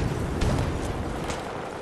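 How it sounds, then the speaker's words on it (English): Grenade blast in Battlefield 2042: a dense, loud wall of rumbling noise that fills the whole moment, heavy and sustained rather than a single sharp crack, with no voices over it. "Grenade, get down."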